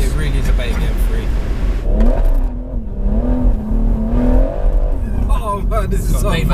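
A JB4-tuned BMW M140i engine pulls hard and loud from inside the car, rising and falling in pitch, while people talk over it throughout.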